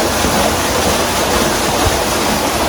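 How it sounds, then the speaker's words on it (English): Creek water running steadily beneath a working pump turbine in the Atherton Tablelands, Queensland: a dense, continuous rushing wash, close and loud, with no breaks or voices. "So the creek's running down below"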